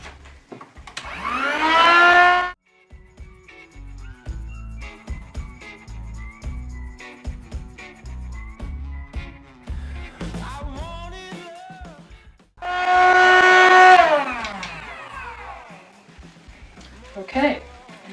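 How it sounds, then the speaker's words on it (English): A vacuum sealer pumps air out of a bag of freshly picked hops, a loud steady motor whine lasting a couple of seconds, repeated about ten seconds later, with quieter rattling and handling noises between the runs. "I'm going to put the vacuum sealer in here."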